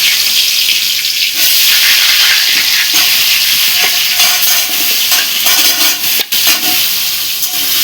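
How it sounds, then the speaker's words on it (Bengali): Potato pieces rubbed with salt and turmeric frying in oil in a pan, a loud, steady hiss and sizzle that runs the whole time, with occasional stirring scrapes and brief clicks. "এবার ভেজে নিচ্ছি।"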